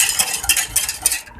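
Spoon stirring cold milk with sugar, custard powder and starch in a kitchen bowl, a quick series of close scraping swishes in a steady rhythm, heard alone for about a second.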